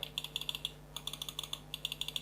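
Side buttons of an SPC Gear Gem Plus gaming mouse click in quick crisp bursts, sharp close-up clicks in several rapid runs with short pauses between, no voice.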